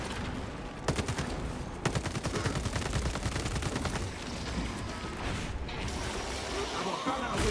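Combat in the video game Space Marine 2 as a fragmentation grenade goes off, a dense roar of rapid gunfire and blasts that stays loud throughout, with a voice speaking under it.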